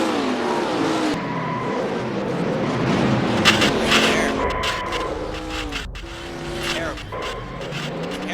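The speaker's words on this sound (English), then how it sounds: "Trieste flies into the crash." IndyCar racing machines in the NR2003 video game roar past amid a multi-car crash, engines whining and tires skidding under steady track noise, with voices talking over it.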